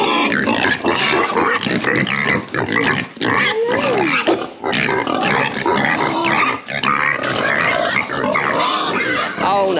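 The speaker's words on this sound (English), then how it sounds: "There's also some little piggies over here." Little pigs at a farm zoo in Gin Gin near Bundaberg grunt, snort and squeal close by in a busy, continuous chorus, with a person talking among them.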